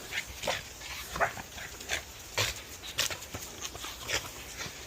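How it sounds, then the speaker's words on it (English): A dog whimpers, yips and gives small barks in short bursts, fairly faint, with some outdoor background noise. "This is Willow, my daughter's dog."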